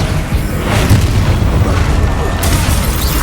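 A loud, dense magical blast rumbles from the Incendio fire spell in the Hogwarts Legacy video game, a sustained booming roar filling the whole moment with a brighter burst near the end.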